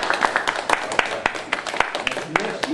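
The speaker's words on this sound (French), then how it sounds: "On t'applaudit." Scattered applause from a small seminar audience after a talk on Max Ernst, individual claps close and uneven, with people talking over and between them.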